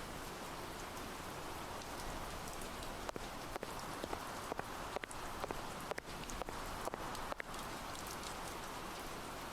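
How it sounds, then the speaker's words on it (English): Steady, quiet rainfall in the horror video game Behind Closed Doors, a soft continuous patter of drops on surfaces with a few faint clicks and taps scattered through it, heard alone. "I like the quiet rain sound effect."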